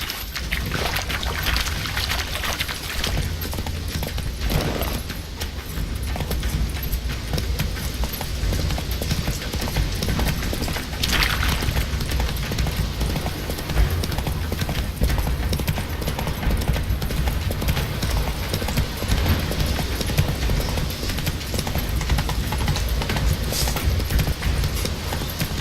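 Horse hooves gallop in The Witcher 3, a steady rapid clip-clop running continuously under a dense layer of game ambience and noise, with no talk.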